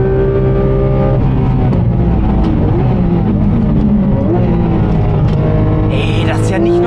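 A Porsche GT3 RS accelerates hard on the Nürburgring Nordschleife, its engine loud and close from inside the cabin, rising in a sustained roar with gear changes near the end, while people talk over it.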